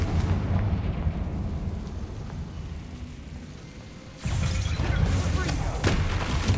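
A Confringo blasting spell going off in the Hogwarts Legacy video game: a steady rumbling soundscape is cut by a sudden heavy boom, and the louder roar carries on after the blast.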